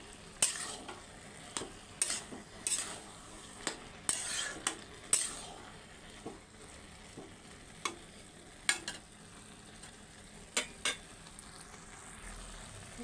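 A spoon stirs salt, turmeric and cumin powder into chili and ginger frying in a pan. Soft sizzling runs under repeated scraping and metallic clinks at an uneven pace, close and fairly quiet.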